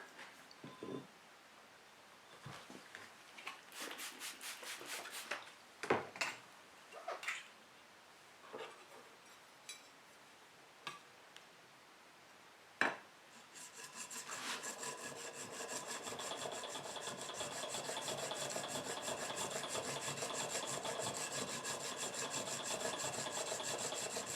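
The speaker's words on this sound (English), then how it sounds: "switch to the 1000 grit side of my 300 1000 diamond stone." A blade is sharpened on the 1000 grit side of a 300/1000 diamond stone: scattered scraping strokes at first, then a steady continuous rhythmic rasping that is faint and close.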